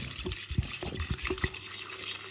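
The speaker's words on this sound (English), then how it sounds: "this is like pure grain alcohol, and you just dump the entire liter in" A full liter of pure grain alcohol is dumped over walnuts in a container, a close, steady watery pour with faint splashes and a few sloshing pulses, no talking.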